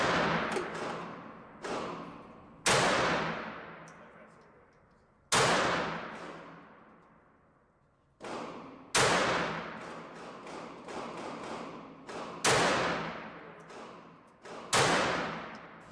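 Kel-Tec P-3AT .380 ACP pistol fired at an outdoor range, about a dozen sharp shots at irregular intervals, each ringing out with a long echoing decay, loud and alone.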